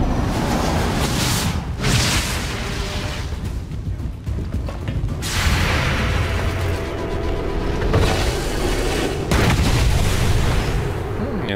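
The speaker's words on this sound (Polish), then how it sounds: "Niezły strzał" Gunfire from the video game XCOM 2 blasts in several heavy booming volleys over a dense, noisy game soundscape, with brief quieter gaps between the bursts and some talk mixed in.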